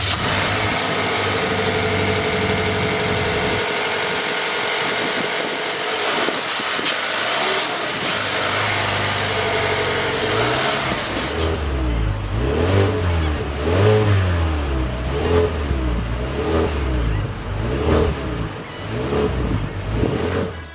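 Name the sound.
2020 Mazda3 hatchback 2.5 liter 4-cylinder engine idling and revving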